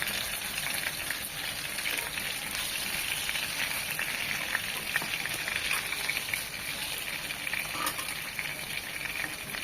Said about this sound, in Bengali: মাছগুলো ভাজার জন্য প্যানে দিয়ে দিচ্ছি সয়াবিন তেল জাস্ট এক মিনিট এপাশ ও পাশ এক মিনিট এভাবে ভেজে নেবো